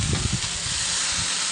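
Rice sizzles on a Blackstone griddle while fried rice is stirred, a steady close broadband hiss with soft scraping textures underneath, continuous through the moment.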